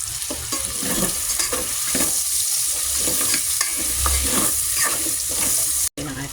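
Pork fries in a pan for pakbet, a constant loud sizzle close by, broken by repeated scraping strokes of a utensil stirring the meat.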